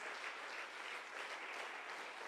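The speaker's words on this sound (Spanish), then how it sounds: "dale un mejor aplauso al Señor Jesús" A church congregation at a Sunday service applauds with an even, continuous wash of hand clapping, heard at a distance, fairly soft and without voices on top.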